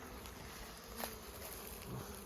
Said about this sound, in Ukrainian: покажи, як бджоли літають